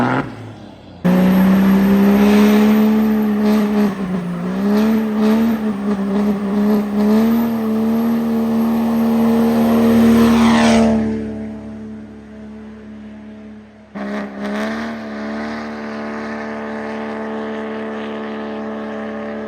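A 1000hp 6.0 Powerstroke diesel Ford Ranger with a G56 manual and dual-disc clutch, painted orange, accelerates hard, its loud engine climbing in pitch through the gears for about ten seconds before it cuts out and briefly revs again.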